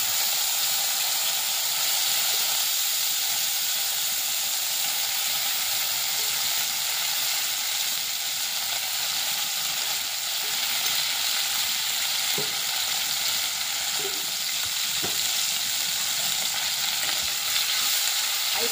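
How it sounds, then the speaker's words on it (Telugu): Tomatoes and green chillies frying in oil for a curry leaf, mint and coriander pickle, a steady dense sizzle running throughout with a few faint clicks from stirring, no voices. "ఇప్పుడే టమాటా, పచ్చిమిర్చి వేగిస్తున్నాము."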